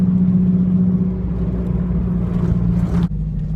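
A car cruising down the interstate, heard from inside as a steady, close, loud engine and road rumble that holds evenly before a brief dip near the end, with no talking.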